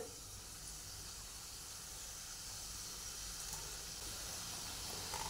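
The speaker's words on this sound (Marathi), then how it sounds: "आपल्या शंकरपाळ्यात तळून घेऊया।" Shankarpali dough pieces fry in medium-hot oil in a kadhai, making a steady, soft, even sizzle and hiss that continues without a break and without talk.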